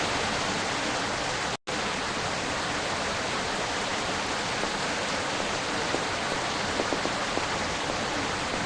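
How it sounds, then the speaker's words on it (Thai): Heavy rain in the video game Sakura School Simulator pours as a dense, unbroken hiss, loud and even throughout, cut by one brief moment of silence near the start. "ฝนตกหนักจริง"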